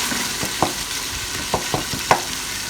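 Minced keema frying with tomatoes, a loud, steady sizzle broken by a few distinct scrapes and knocks of a spoon mashing and stirring in the pan.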